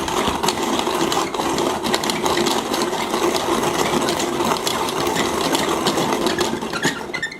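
A Zassenhaus Santiago hand coffee mill grinding coffee beans on its lowest setting, a steady close crunching and rattling grind that carries on without a break.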